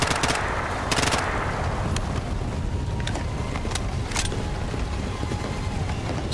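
Rapid automatic gunfire from weapons in the first-person shooter video game Bright Memory Infinite, with dense sustained bursts and sharp shot transients throughout, loud and up close.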